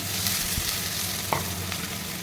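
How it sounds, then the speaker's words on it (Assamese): Potatoes and capsicum sizzle loudly and continuously in hot oil, with a brief scrape of stirring partway through. "এইখিনি এতিয়া অকণমান সময় ভাজি দিম"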